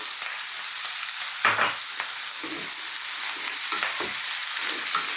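Beef stir-fried over high heat hisses with a strong, continuous sizzle, broken by a few scraping and stirring knocks as the pieces are tossed.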